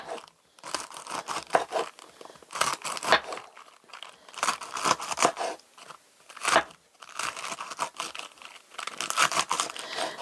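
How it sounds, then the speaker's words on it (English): A knife shredding a head of cabbage on a board, a quick irregular series of crisp crunching cuts and rustles, close and fairly quiet, with no talk. "So I'm going to cut this, or shred this cabbage up."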